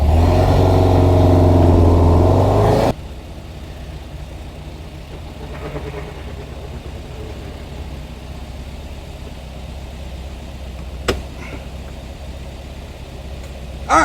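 A 1971 VW Type 3 Squareback with poor brakes revs hard for about three seconds. It then settles into a quieter, steady running drone with a single sharp click near the end.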